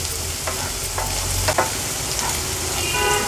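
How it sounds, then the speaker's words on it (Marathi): Ginger garlic paste frying with onion in hot oil in a pan, giving a constant close sizzle with scattered crackles and spatters as it is stirred, with no voices. "पेस्ट देखील कांद्यासोबतच छान आपण तेलावर परतून घेऊया"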